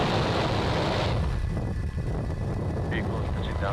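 SpaceX Falcon 9 rocket carrying Starlink satellites lifting off from Vandenberg, a loud continuous broadband roar with deep rumble that holds steady throughout, with a voice briefly heard over it.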